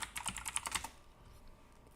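Rapid typing on a computer keyboard, a quick burst of close, loud key clicks for nearly a second that then stops, leaving faint room tone.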